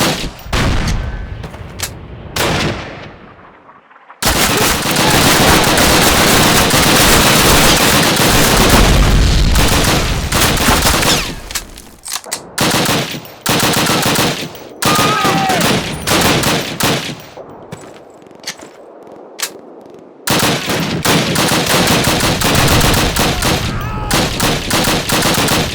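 Dense battle gunfire from the 2003 video game Call of Duty, with bursts of rifle and machine-gun fire and occasional booms, loud and nearly continuous, broken by a few short pauses.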